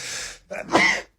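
A single sneeze in a live sports-and-finance broadcast studio: a soft intake followed by a loud, sharp burst, close to the microphone, with no talking over it.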